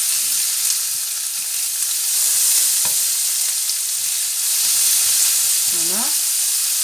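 Chives and goose egg sear in a pan with a steady bright sizzle that runs throughout, with a couple of faint scrapes and a short squeak near the end.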